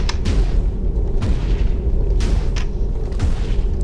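Explosions in the Minecraft Voltz mod video game thud in a rapid series of deep booms, each a short burst over a constant low rumble, with no speech.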